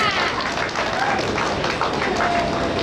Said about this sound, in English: You just heard the cheer go up over on lane 5.